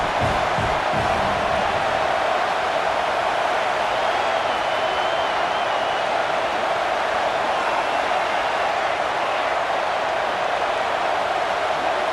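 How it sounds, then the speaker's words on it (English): Home crowd cheering in EA Sports College Football 26 forms a steady, dense wash of stadium noise, a continuous roar at even loudness across the whole stretch with no clear peaks. "how nice is it to have the home crowd going absolutely bananas?"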